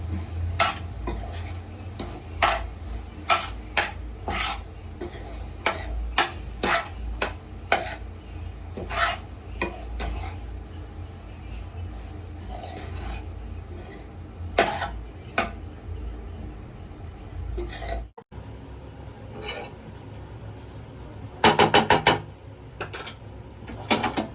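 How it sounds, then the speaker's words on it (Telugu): Tomato rice being stirred in a metal pot, a spoon scraping and clinking against the sides in an irregular rhythm of sharp taps, close and clear, with a few louder knocks near the end. "అన్ని మెతుకులకి కలిసే విధంగా కలుపుకోవాలి"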